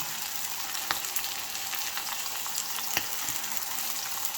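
Fish pieces frying in oil on a tawa over a low to medium flame, giving a steady close hiss with a few sharp pops and crackles and no voices.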